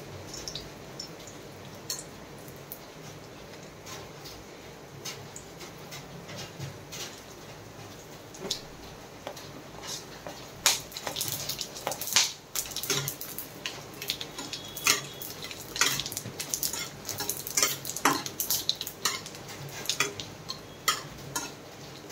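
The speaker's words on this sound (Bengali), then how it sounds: "তেলের ওপর আমি এখানে গোটা মশলাগুলো, গরম মশলা যেগুলো হয় ওগুলো আমি দিয়ে দেবো।" Whole garam masala spices sizzling in a little hot oil in a pan, a steady close crackle that grows busier with sharp pops and spatters, plus occasional stirring taps.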